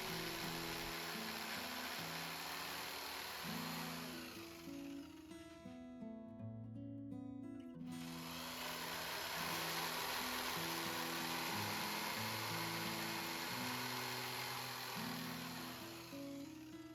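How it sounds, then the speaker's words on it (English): A jigsaw cuts apart wooden signet ring blanks. The motor buzzes and whines steadily for a long stretch and stops briefly partway through before starting again. The sound is close and carries no talk. "Now, it's time to separate the individual blanks using a jigsaw."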